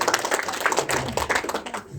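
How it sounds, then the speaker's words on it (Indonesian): Applause from an audience at a business seminar, a fairly close crowd of hands clapping in a busy, uneven patter that fades out at the end. "tepuk tangan untuk dia"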